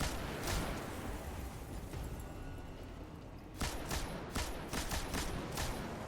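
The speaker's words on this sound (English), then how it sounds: "I'm just gonna like shoot the ground and explode you" Gunfire and explosions in the Destiny 2 Nightfall Will of the Thousands fight against Xol, a dense continuous barrage with sharper cracks and bursts clustering in the second half, loud and unbroken.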